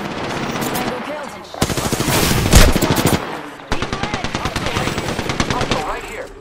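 Automatic weapons fire in the video game Apex Legends comes in two long, loud bursts of rapid shots separated by a short pause, with faint game voice lines in the background.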